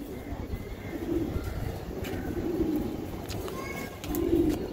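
Pigeons of Indian and Pakistani breeds coo in low, soft, repeated rolling calls close by over a steady background murmur.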